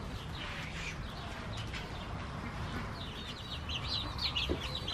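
Chickens in a farm coop, including one large hen and twelve young birds, give soft scattered clucks and chirps over a rustling background, faint and close, with the chirps busier toward the end.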